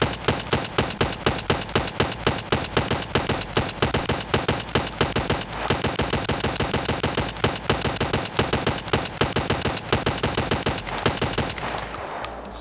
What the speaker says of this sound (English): Now this is under full rapid fire,